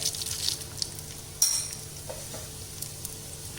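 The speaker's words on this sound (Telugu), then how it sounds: "కొంచెం కరివేపాకు క్రిస్పీగా అయ్యే వరకు వేపాలండి" Curry leaves and dried red chillies fry in oil over a low flame, a steady soft sizzle and hiss with a single clatter of a pan or spoon partway through.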